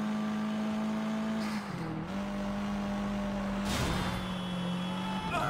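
A car in Sleeping Dogs drives past on a Hong Kong street. A steady engine drone shifts pitch as it goes by, near and fairly loud, with no voices.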